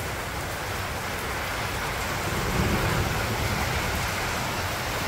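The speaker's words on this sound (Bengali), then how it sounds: "মোটামুটি বৃষ্টি শুরু হয়ে গেছে" Heavy rain pouring steadily during a storm in a rural village, a dense, loud and continuous wash of falling water with a low rumbling undertone.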